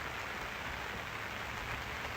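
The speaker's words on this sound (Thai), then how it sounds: "บรรยากาศฝนตกนะฮะตอนนี้" Steady rain falling at a riverside fishing spot at Huay Tung Tao in Chiang Mai, an even, continuous hiss of drops on surfaces with no talk.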